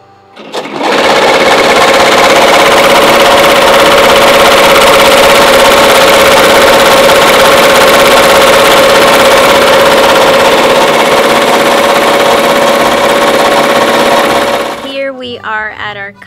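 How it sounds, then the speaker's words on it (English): A ZSK German-made wide format embroidery machine runs steadily at a loud, close, even mechanical drone with a constant hum, then winds down near the end as brief speech appears. "Here we have our ZSK German made wide format embroidery machine."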